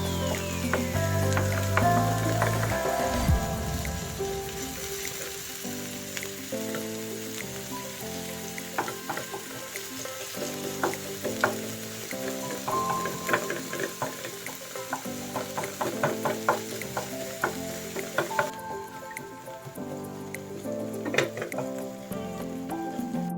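Ground chicken sautés in a hot pan with a steady sizzle and frying crackle, punctuated by repeated scraping and stirring strokes, close and continuous with no talk.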